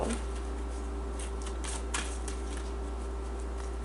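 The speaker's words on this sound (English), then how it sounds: "I just want to make sure I shuffle these really good" Quick riffling clatter of a deck of cards being shuffled, a brisk flurry of soft slaps over a steady low hum, close by.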